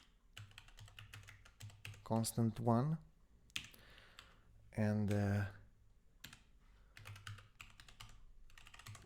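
Quick close clicks of typing on a computer keyboard in short bursts, with someone talking in between and over the keys.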